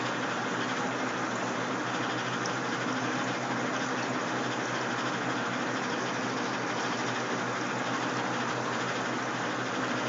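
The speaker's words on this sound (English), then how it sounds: "looks to me like it just broke siphon. And pump's still running." An aquaponics pump keeps running while water drains through a siphon from a gravel grow bed, making a constant, loud rushing and gushing wash that holds steady throughout without any voices.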